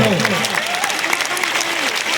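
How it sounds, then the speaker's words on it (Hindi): Crowd clapping steadily at a Jan Suraj political rally in Alamnagar, Madhepura, Bihar, a dense outdoor patter with a voice calling out faintly over it. "अब बजा लीजिए ताली भर जो"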